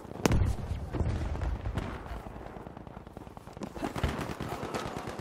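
A grenade blast in the World War II shooter Battlefield V on the Al Marj Encampment map, a sharp loud boom early on followed by scattered gunfire and further thuds through a busy battle mix.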